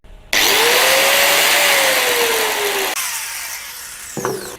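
An 850-watt, 220-volt angle grinder rated at 11,000 rpm spins up with a sudden loud whine, runs steadily, then winds down with a faint clatter at the end.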